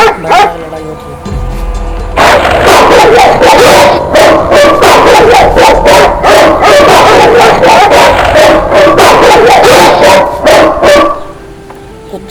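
Dogs bark, yip and whimper in a fierce fight with a black panther in an animated story, loud, dense and continuous yelps after a quieter start.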